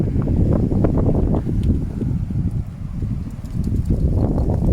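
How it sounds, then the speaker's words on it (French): Strong wind gusting at the hilltop ruin of a tenth-century medieval castle, a loud, continuous roar buffeting the microphone with rumbling surges throughout. "Il y a beaucoup de vent."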